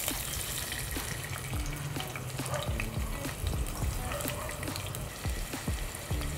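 Chopped small onions sautéing in hot oil in a pressure cooker, a steady close sizzle with scraping and stirring knocks throughout, no voices.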